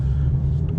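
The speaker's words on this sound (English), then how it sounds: "Listen to that exhaust, guys." A Ford Mustang Shelby GT350 exhaust rumbles deep and loud while the car is driven, a brief, steady low drone lasting under a second.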